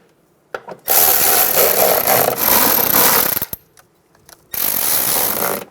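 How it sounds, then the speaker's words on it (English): A power tool drives bolts into the inner fender liner of a 2014-2019 Toyota Highlander, with two long loud whirring bursts and a third after a gap, plus brief ratcheting clicks in between, close up and with no talk. "Install 2 more bolts into the inner fender liner. And then tighten those down."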